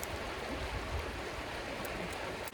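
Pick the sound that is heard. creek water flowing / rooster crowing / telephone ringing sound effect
creek water flowing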